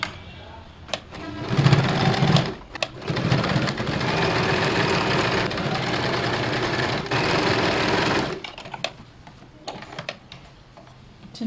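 A sewing machine stitching a simple blouse runs in a steady, loud mechanical whir for about six seconds, with short stop-start bursts before and after and soft clicks as it pauses.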